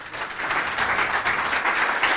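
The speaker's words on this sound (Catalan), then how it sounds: "demanar-vos un aplaudiment per ells" Steady, dense audience applause at a public forum event, a continuous wash of many hands clapping together, fairly close and full for the whole stretch.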